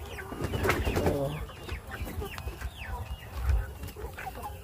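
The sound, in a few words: laying hens clucking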